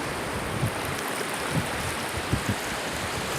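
Broad steady rush of water flowing like a river toward a beach in Gambia, running past high grass, with a few soft low surges and a windy hiss throughout, no voices.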